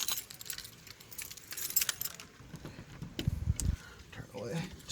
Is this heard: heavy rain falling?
no